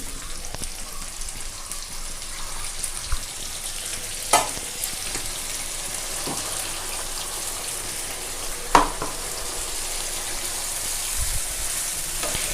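Bhola fish curry with turmeric being stirred in a pan. A steady, close sizzle runs throughout, broken by a few sharp knocks of the spoon against the pan.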